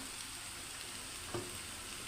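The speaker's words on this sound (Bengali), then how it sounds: "এটাকে আমি ভালোভাবে কষিয়ে" Onion, chilli, ginger-garlic paste and turmeric fry with potatoes in a pan, making a soft, steady sizzle with a single brief stirring clack near the end.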